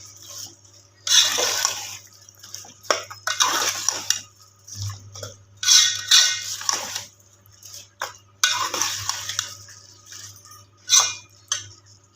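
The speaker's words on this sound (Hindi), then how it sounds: "आधा कप पानी डाल देते कीमा गलाने के लिए, तब हमारा कीमा गलेगा।" Half a cup of water goes into minced keema cooking in a pan, heard as a few separate splashing pours and sizzling bursts with faint utensil clinks between them, fairly close, with no talk.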